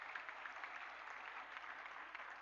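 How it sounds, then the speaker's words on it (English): An audience at a school prize-giving ceremony applauds with a dense, even wash of clapping that carries on through the whole moment, with no speech over it. "Let's give her a round of applause."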